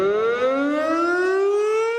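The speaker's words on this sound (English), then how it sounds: "This siren is meant to warn neighbors of any emergency." Nueces County fire department emergency warning siren during a noon test, a loud steady wail slowly rising in pitch with rich harmonics, heard alone with no talk.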